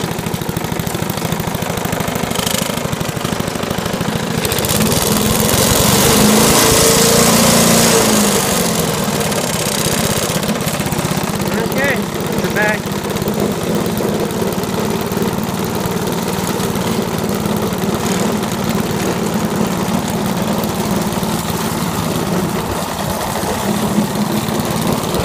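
A Hechinger 3.5 hp push lawn mower with freshly changed oil runs close by, its engine a loud, steady drone that barely changes for the whole stretch, with no talking.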